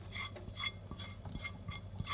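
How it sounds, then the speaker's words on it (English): Chopped onion going into a pot of melted cheese sauce for mac and cheese, heard as soft clinks and scrapes of a spoon stirring against the pan in a quiet kitchen. "now I'm going to add my onion"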